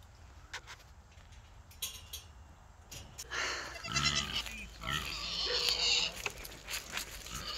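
Goats on a farm bleat and grunt in scattered short calls, some near and loud, amid rustling and faint human voices in the background.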